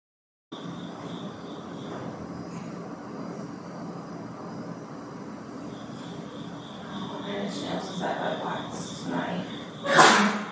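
A single sharp sneeze bursts out near the end, over a steady background hum with some faint talking.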